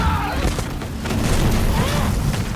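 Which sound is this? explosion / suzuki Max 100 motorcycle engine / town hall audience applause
explosion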